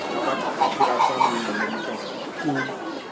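Chickens clucking and pecking under rabbit cages on a farm, with short, moderately close calls in a loose, irregular rhythm over a steady background hum.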